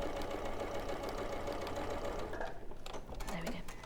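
Domestic sewing machine stitching down the sides of an opening on an appliqué cushion, a steady mechanical whir running for several seconds that stops near the end as a person begins speaking.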